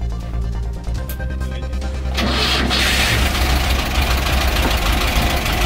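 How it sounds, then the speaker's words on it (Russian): A car engine is started with a portable jump starter instead of the car battery: a short crank, then it catches at about two seconds and settles into a loud, close, steady idle, with no talking. "Завела двигатель вообще без автомобильного аккумулятора на несколько раз"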